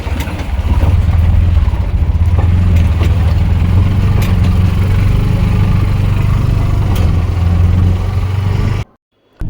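A new car driving over a rough road, its engine droning loudly and steadily with rattling bumps from the uneven surface, close up and unbroken until a brief cutoff near the end.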